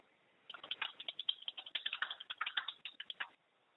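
Rapid, uneven keystrokes on a computer keyboard clatter steadily for about three seconds during a business conference call, fairly close and alone with no talk, then stop abruptly.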